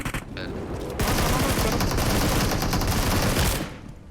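Gunfire in PUBG Mobile erupts as a sustained, rapid automatic burst lasting several seconds, loud and dense, after a brief quieter lead-in.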